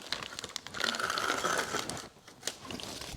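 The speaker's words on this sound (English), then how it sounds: "Get a nice utility knife with a sharp blade in it." Sharp utility knife slicing through the top of an empty plastic wood pellet bag on a board: a close crinkling, tearing rasp lasting about a second, then a few brief crackles.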